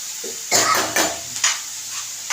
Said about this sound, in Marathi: आम्हाला कांदा पण भाजून घेते कांदा आपला लाल झालेला आहे